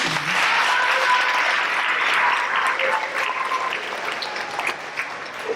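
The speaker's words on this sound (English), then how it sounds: "Can we have a round of applause for these?" Sustained audience applause fills an eighth-grade awards ceremony honoring students receiving certificates, a dense, steady wash of many hands clapping that holds loud throughout before thinning slightly at the end.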